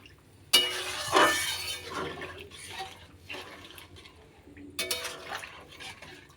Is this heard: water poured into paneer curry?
yes